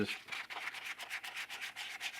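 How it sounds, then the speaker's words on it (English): Close, steady back-and-forth sanding strokes scrape rhythmically over a 1/4 scale Aquaman figure, each rasping pass evenly spaced, with no talking. "I'll go back and resand some of the areas, the hard parts in the mouth"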